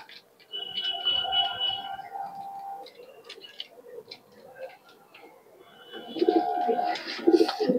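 Pigeons at a pigeon flying tournament in West Bengal coo and call in short bursts, with ticking sounds and scattered chatter in between, and the calls grow louder and denser toward the end.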